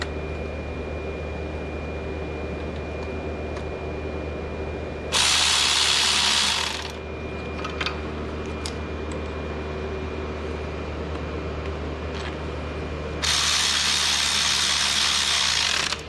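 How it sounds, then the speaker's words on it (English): A ratchet wrench works the 13mm bolts on the oil filter housing of a Chrysler 3.8 engine, giving two bursts of rapid clicking a few seconds long, separated by quieter workshop ambience with no talking. "putting them down, starting with the 13mm at the bottom first because it's the most inward bolt"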